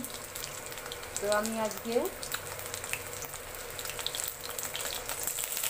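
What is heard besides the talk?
silver carp fish frying with salt and turmeric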